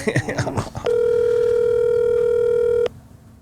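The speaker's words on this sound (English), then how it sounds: "Ringing." A single long telephone tone sounds steadily for about two seconds after some brief rustling, then cuts off abruptly.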